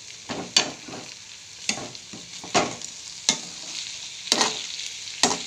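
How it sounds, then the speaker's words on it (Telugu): Raw potato pieces fry in oil as a spatula stirs them, giving sharp, intermittent scrapes and clatters close up over a soft, continuous sizzle. "చూసారా ఎలా వేగుతున్నాయో"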